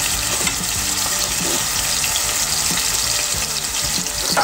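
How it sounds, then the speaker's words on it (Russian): A cutlet sizzles steadily in a frying pan, a continuous loud hiss and crackle of hot fat with a low bubbling undertone, no voices. "Котлет наш жарится с вами."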